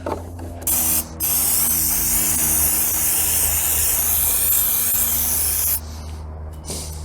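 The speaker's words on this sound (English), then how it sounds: "grab yourself a nice handy bottle of brake clean, spray her all out" A loud, steady hiss of aerosol brake cleaner sprays continuously for several seconds on a trailer wheel bearing outdoors on a lawn, with brief pauses near the start and a few short bursts at the end.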